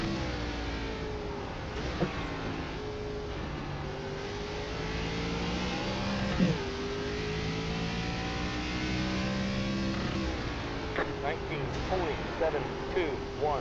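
An ARCA stock car engine in iRacing on the short Martinsville oval drones steadily throughout, its pitch rising and falling through throttle lifts and revs, while someone talks over it.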